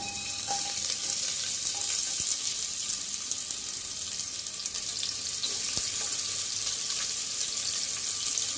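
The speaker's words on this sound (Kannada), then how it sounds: "ಆಯಿಲ್ ಬಿಸಿ ಆದ್ಮೇಲೆ ಈರುಳ್ಳಿ ಹಾಕಿ ಗೈಸ್" Onions sizzling and frying in hot oil in a home kitchen pan, a steady crackling hiss throughout with a few faint utensil knocks, no talking.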